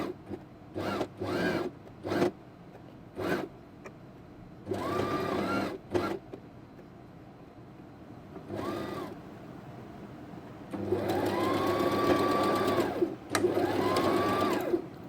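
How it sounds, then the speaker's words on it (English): A sewing machine stitches the edge seam of an ombre ruffled zipper pouch with a 1/8-inch seam allowance, in several short bursts and then two longer steady runs, close and clear, with no talking. "sew along this edge, and I'm gonna use a seam allowance of 1/8 inch"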